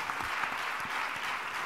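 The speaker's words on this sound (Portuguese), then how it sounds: "Vais ter palmas." Audience applause at a pharmaceutical entrepreneurship symposium panel. The clapping is steady and moderately faint, holding at an even level for its short length.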